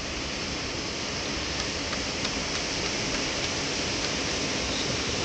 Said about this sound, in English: Let them hear the beach